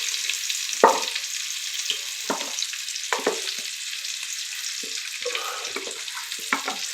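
Green chillies and garlic are fried in hot oil, a steady close sizzle broken by several sharp bursts of spitting and stirring scrapes, with no talking.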